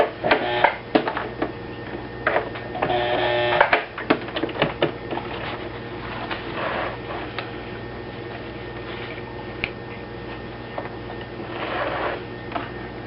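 A home sewing machine stitching in bursts, with rapid mechanical clatter and ticking that starts and stops, fairly close and loud, interspersed with handling knocks.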